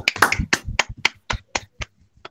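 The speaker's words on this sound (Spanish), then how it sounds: "les voy a pedir a los asistentes que le otorguemos un fuerte aplauso a nuestro conferencista, el doctor José Manuel Jara Guerrero." Scattered hand claps from a conference audience after a lecturer's talk, roughly nine distinct claps close by that thin out and stop, with no talking.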